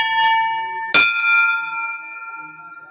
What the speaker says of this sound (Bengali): একটু বেল বাজিয়ে দিচ্ছি।